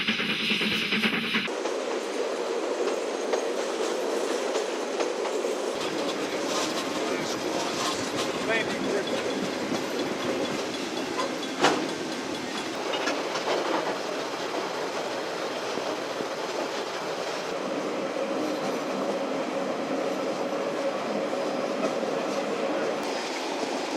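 A train rolls through the Hutt Railway Yard, a former coal and timber loading yard, giving a steady rumble with clattering and a faint squeal, close and continuous throughout.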